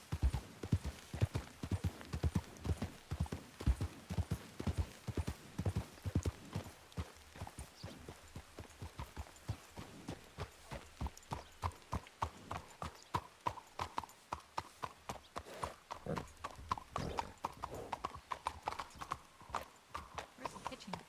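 A horse plods along at a steady walk in a video game, its hooves clip-clopping in an even rhythm throughout, with a few brief spoken remarks at the start.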